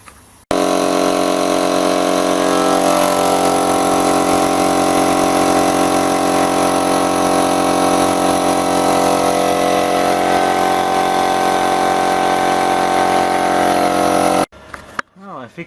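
A small electric air compressor with leaky fittings and a faulty pressure switch runs loud and steady, a constant motor drone filling nearly the whole stretch before cutting off abruptly near the end.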